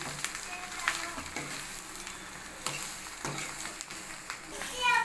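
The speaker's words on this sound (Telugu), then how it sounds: "ఇలాగే కలుపుకుంటూ ఒక ఐదు నిమిషాలు అయితే ఇలా కలుపుతూ ఫ్రై చేసుకోవాలన్నమాట" Eggs frying in a pan with chili powder, stirred steadily: a continuous close sizzle runs throughout, with scraping stirs and occasional spoon knocks against the pan.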